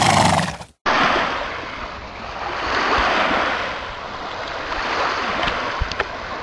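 Ocean surf rolls onto a beach in a continuous broad wash with wind noise. It is loud and steady after a brief dropout near the start, with no voices.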